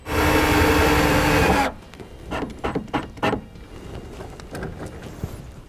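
A bit driver drives a screw to fix a ring terminal during a battery disconnect install on a 2016 Chevrolet: a loud whirring burst, then a series of light clicks and clanks.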